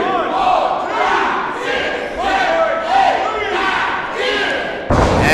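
A wrestling crowd chants in loud rhythmic bursts, counting along to ten together, the shouts rising and falling in even beats before a sudden thud and louder roar.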